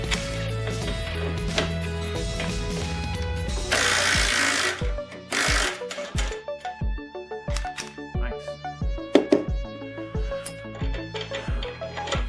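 A Dewalt impact wrench on a torque test fires in repeated short bursts of rapid hammering with whirring spin-ups between them, close and fairly loud, alongside scattered mechanical clicks and knocks.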